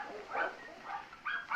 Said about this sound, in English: Oh, that's just the dogs barking.